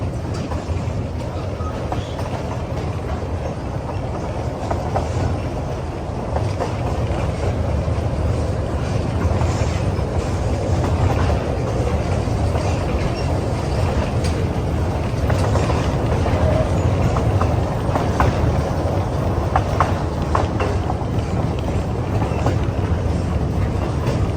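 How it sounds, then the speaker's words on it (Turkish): Continuous low rumble of a tourist train rolling along in Sazova Park, Eskişehir, Turkey, steady and loud throughout, with faint rhythmic clatter from the rails and some wind. "Sizlere tren turu yaptırmak istedim."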